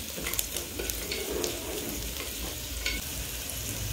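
Cashew nuts frying in ghee for a coconut milk pulao give a steady, close sizzle with a soft crackle, and a few faint stirring clicks sit on top.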